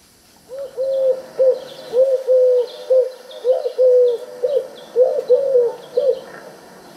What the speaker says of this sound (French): La tourterelle turque.